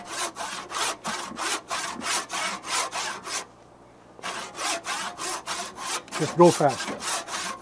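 A crosscut hand saw ripping along the grain of wood, strokes steady and rhythmic, close and fairly loud, with a brief pause midway before the back-and-forth sawing resumes.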